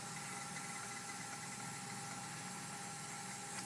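An engine in a home garage runs steadily under load during a torque reading, a continuous even hum with a faint vibrating drone and no voices.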